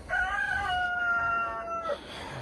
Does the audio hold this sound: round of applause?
no